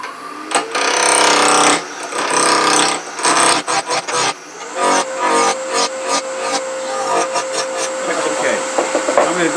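A woodturning lathe rounds off a wooden piece for a nativity scene: loud scraping and chattering bursts of the tool against spinning wood, broken by short pauses, with a steady motor whine underneath.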